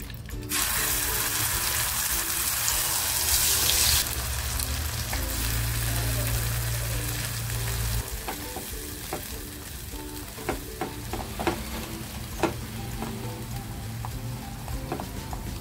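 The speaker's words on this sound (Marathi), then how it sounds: "मसाला आहे ना आपल्याला छान फ्राय करून घ्यायचे।" Homemade masala with turmeric hits hot oil in a pan for an egg masala, a loud, steady sizzle that later breaks into scattered pops and crackles as it fries, with no talking.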